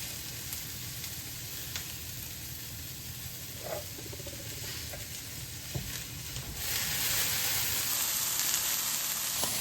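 Quartered broccoli sizzling in a pan alongside other veggies, a steady close frying hiss with a couple of light clinks, swelling louder near the end; no voices.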